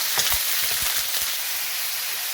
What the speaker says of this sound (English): We're going to cook and stir that for about 3 to 4 minutes until it's cooked through.